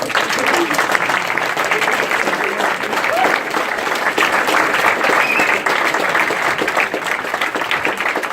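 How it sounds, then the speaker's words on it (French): An audience at an award ceremony breaks into steady, dense applause for the winner, loud continuous clapping filling the room with faint crowd murmur beneath. "Alors, je vous demande d'applaudir Battle Class"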